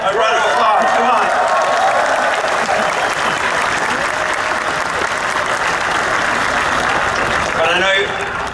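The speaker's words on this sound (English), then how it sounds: "Give yourselves a round of applause." Sustained applause from a large crowd at a Tesla Model 3 delivery event, dense steady clapping mixed with scattered cheers and crowd noise across the whole stretch, loud and close.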